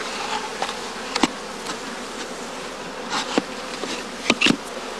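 A cast swarm of honeybees hums in a catching box at a bee farm where skep beekeeping is practised. A steady close buzz is broken by several sharp taps and knocks.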